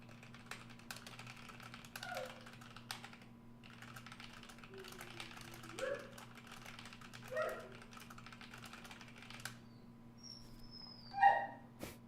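A dog gives a few faint, scattered yips and barks from another room, mixed with keyboard typing clicks against a low steady hum, with one sharper yelp near the end.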